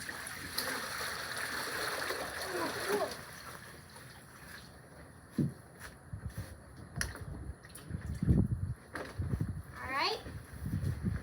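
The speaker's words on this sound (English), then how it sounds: "I dump all the water out first." Water dumped out of a container during cleaning splashes and gushes in irregular bursts, loud and near, while people talk over it.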